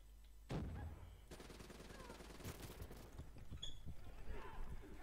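Automatic weapon fire in the video game Black Ops 3, a sustained spray of rapid shots in dense bursts over a low background rumble.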